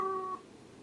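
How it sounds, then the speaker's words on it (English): A cat in Fragile Dreams: Farewell Ruins of the Moon gives a single short, faint meow that fades quickly into quiet background. "It's the same cat from before."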